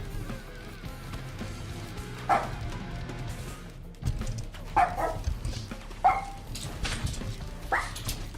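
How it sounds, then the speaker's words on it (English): A hound barks a few times in the background, short yelps spaced irregularly at moderate distance, alone without talk. "We've just got background hound."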